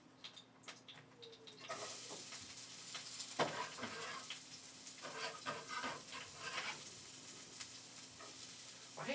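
Cabbage and apple tossed into a hot pan beside pork chops, starting quiet before a bright sizzle bursts in and continues crackling steadily, close and fairly loud, with a low hum underneath.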